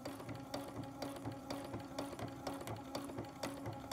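A sewing machine stitching as it is used to draw with thread, a fast steady mechanical whirr with even rhythmic clicking, close and fairly quiet, running throughout without talking.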